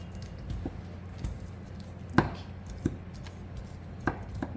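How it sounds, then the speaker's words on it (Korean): A kitchen knife cuts through pufferfish on a cutting board: several separate sharp taps and chops spaced irregularly over a soft background of handling noise. "돌려서 끊었으면 싹싹싹싹 칼질을 하면 잘 나오죠?"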